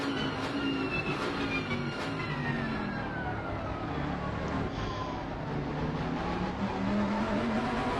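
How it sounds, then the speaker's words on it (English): Racing engine sound from a Bentley GT3 car in Assetto Corsa Competizione at Monza, steady droning tone with pitch sweeps and a stuttering note as traction control cuts in, continuous and fairly loud throughout. "You can hear that a lot of traction control for that Bentley. You hear it just kicking in there."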